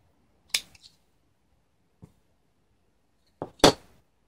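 Scissors cut off excess fishing line on a sabiki rig: a few sharp, isolated snips close by, spaced apart with quiet between them, no talk.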